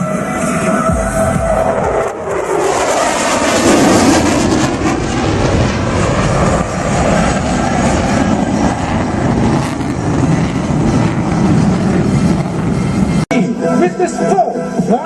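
A fighter jet in full afterburner at an airshow gives a loud, rising roar that swells and then holds as a broad rumbling blast, while a voice talks over it, ending with a sharp click.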